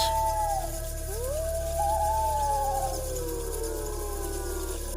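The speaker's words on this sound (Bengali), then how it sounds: "শেয়ালের ডাক" Jackals howling at night, long wavering wails rising and falling over a steady low background drone, sustained and moderately distant.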